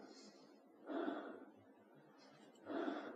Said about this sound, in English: there's a breathing sound, which was the breathing sound I nicked from Half-Life